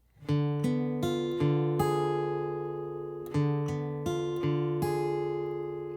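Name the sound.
acoustic guitar chord strummed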